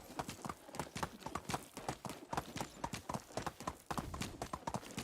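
Horse hooves clip-clop at a steady trotting rhythm in the medieval game Medieval Dynasty, close and continuous with a brief break near the end, no talk over them.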